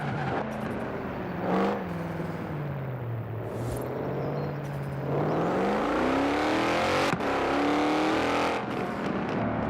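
A Mercedes-AMG engine in the Forza Horizon 4 racing game, a loud steady drone that dips and then climbs through rising revs, with shifts audible along the way and no talk over it.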